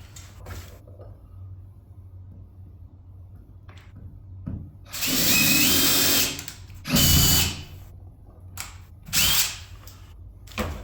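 A Milwaukee Fuel cordless drill drives lag bolts during a TV wall mount installation, whirring loudly in three bursts, a long one then two shorter, with clicks and handling knocks between them and no talking.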